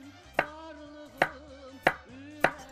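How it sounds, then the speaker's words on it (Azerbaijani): Four sharp, evenly spaced knife chops on a board slice carrots into rings, close and clear with quiet gaps between strokes. "3-4 ədəd kök götürürəm. Bu şəkildə halqa-halqa doğrayırıq bunları."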